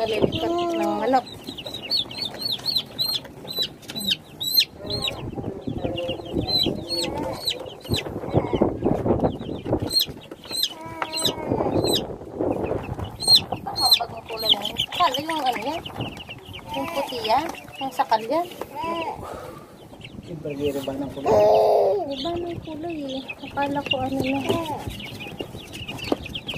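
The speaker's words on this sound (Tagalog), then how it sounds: "Nalilikot ng manok." Chickens cluck and squawk restlessly for a long stretch, overlapping calls at close range, with people talking intermittently among them.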